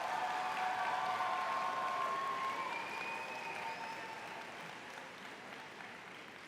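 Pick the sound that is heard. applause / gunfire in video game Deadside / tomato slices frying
applause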